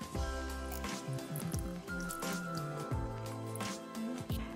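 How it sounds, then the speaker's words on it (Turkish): Homemade green face mask paste mixed with milk being stirred in a bowl, soft wet squishing and dripping in a repeating rhythm, close and quiet, with no talk. "Ve şimdi karıştırmaya devam ediyorum."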